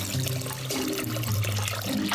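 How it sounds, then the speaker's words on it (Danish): Water pouring into a mixture of cream and sugar, a continuous gushing, splashing stream with some low sloshing, fairly loud and close, without speech. "Du starter med at hælde fløde, sukker og det sidste vand i."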